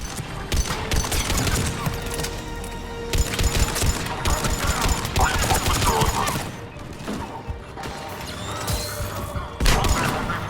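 Sustained gunfire fills a battle in Mass Effect 3 on Sur'Kesh, with rapid bursts and crashes rolling on continuously while booms and mechanical clatter mix through the fight.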